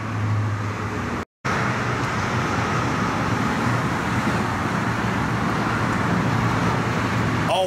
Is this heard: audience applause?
no